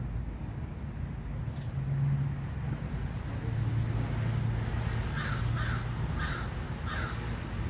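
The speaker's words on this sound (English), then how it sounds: "Anybody ever seen a baby crow?" Crows caw repeatedly in a short run of harsh calls at moderate distance over a constant low rumble of traffic.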